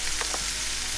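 Pretend shrimp on a Melissa and Doug toy taco set gives a steady, hissing sizzle during toy cooking play, one continuous second of close, loud noise with no talk.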